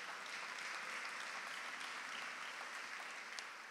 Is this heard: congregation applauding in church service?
yes